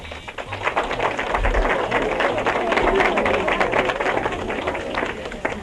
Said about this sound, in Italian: un applauso a loro